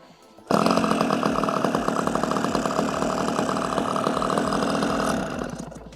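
A nitro engine on a giant RC Piper Cub model plane buzzes sharply up close as it is primed, a harsh, chainsaw-like rattle that starts abruptly, holds steady for several seconds, then fades down.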